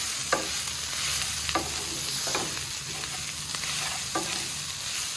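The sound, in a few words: stirring fried potatoes and chickpea greens together in a pan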